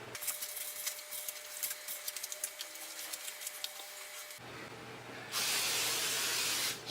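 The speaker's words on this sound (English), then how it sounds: "I'm going to get my olive oil spray" Olive oil spray hisses from a can onto chicken, a quiet steady spray burst of about two seconds after soft handling noises, with no talking.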